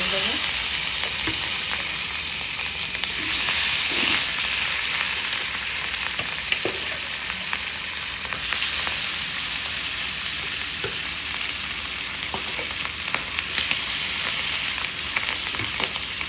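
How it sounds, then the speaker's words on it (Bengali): Hilsa fish frying in very hot oil, a steady loud sizzle that fills the whole stretch with scattered crackles and pops, no voices present. "দিয়ে দিলাম মাছ ভাজা।"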